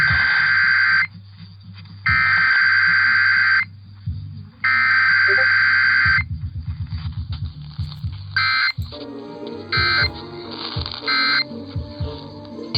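An emergency alert system test on the AM station KDKA sounds as loud electronic burst tones followed by a sustained two-tone alert, then a chopped run of pulses and more short tone bursts.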